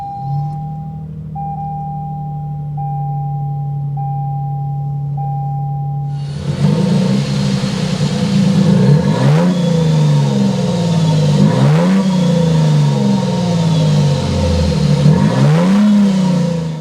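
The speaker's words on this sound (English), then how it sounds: "start up this hybrid max so you could hear that exhaust note" A Toyota Sequoia TRD Pro hybrid SUV starts with a sudden burst after several chime tones, then settles into a loud exhaust note with repeated revving swells that rise and fall.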